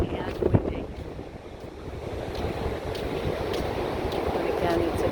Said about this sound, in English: It's a bright day and windy.